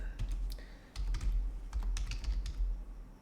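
Rapid keyboard typing with crisp clicks in uneven bursts and a brief pause, close and clear, while writing C# code in a programming session.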